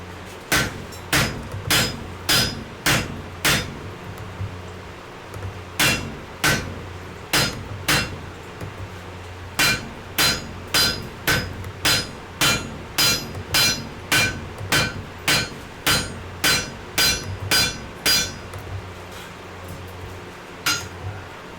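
Hammer blows ring out on hot wrought iron while forge welding cheeks onto a sledgehammer head, sharp metallic strikes in irregular bursts of two to four with short pauses, repeating steadily and close for the whole stretch.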